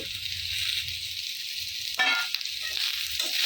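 Onions frying in a pan give a steady broadband sizzle throughout, with a few louder crackling bursts where they are stirred or turned, close up with no talk.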